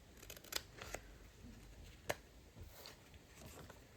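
Scissors cut through vellum paper for an autumn envelope and pocket set, a few quiet, crisp snips with one sharper cut near the middle over soft background hiss.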